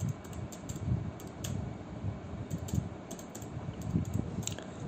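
Steady typing on a computer keyboard, student details being entered into an XML exercise; rhythmic clicks in short bursts over a constant fan-like hum, close and moderately loud, with no talking.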